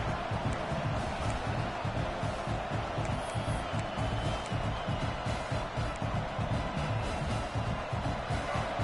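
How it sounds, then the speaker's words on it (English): Dense, roaring crowd noise fills the space, a continuous wash of cheering and shouting from a large stadium audience at a Florida vs Tennessee football game. "this crowd is fired up. Listen to this noise here."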